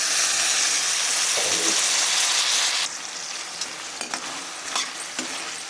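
Onions and tomatoes frying in a pan: a steady broadband sizzle that drops after a few seconds when the tomatoes go in, followed by scattered stirring clicks and scrapes, close and alone with no talking.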